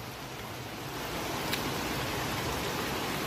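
Rain falls outside at night as a steady, even hiss of many drops, soft and constant throughout with no voices.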